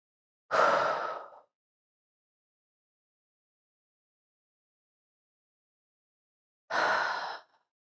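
Two long exhalations during a yoga pose, each close and alone, separated by about five seconds of silence.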